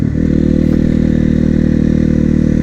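A supermoto motorcycle engine runs close by at a steady, loud, throbbing idle, with no talk over it.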